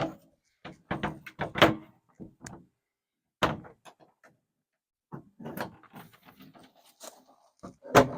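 A trailer storage compartment door on a Sol Dusk ENTECH trailer is handled, with a series of close clicks, latch snaps and knocks in irregular bursts separated by silent gaps.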